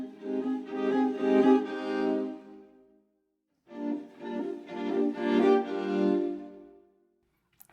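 Ripple Cello sample library played at double speed: two quick, busy phrases of bowed cello notes, close and clear, separated by a short silence.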